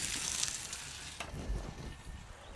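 A tomahawk ribeye steak sears on a Kamado Joe grill with a soapstone surface, giving a faint, steady sizzle with a soft crackle partway through.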